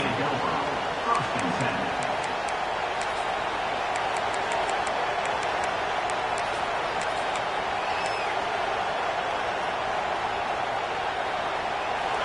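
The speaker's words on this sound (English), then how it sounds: "This crowd still bringing the intensity to open the second half." A stadium crowd at a college football game, the Howard HBCU side opening the second half, sends up a steady broad roar of noise, with a commentator talking over it throughout.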